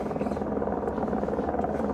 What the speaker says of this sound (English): now there's a second chopper